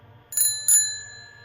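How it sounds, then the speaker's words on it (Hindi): A bicycle bell rung twice in quick succession, two bright metallic rings with a lingering shimmer that fades slowly, over a faint low hum. "कांपते हाथों से साइकिल की घंटी बजाई"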